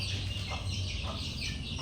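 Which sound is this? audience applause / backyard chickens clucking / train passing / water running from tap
backyard chickens clucking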